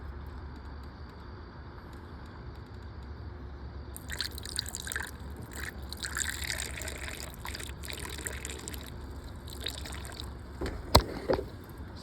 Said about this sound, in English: I'm gonna pour some distilled water